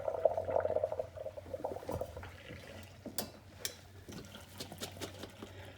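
Cooked macaroni and water poured into a colander, a short gushing splash at the start fading into faint dripping, trickling and scattered clatter, quiet and close.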